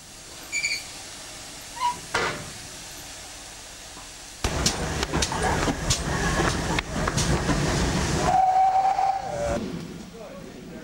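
A steam locomotive works along a preserved railway in the Severn Valley area, with a steady rumble and chuffing under a brief whistle-like tone; a voice is heard faintly near the start.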